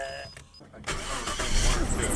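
A Nissan R34 Skyline engine cranks and catches, then settles into a rough idle with a high squealing whine over it, while voices talk nearby.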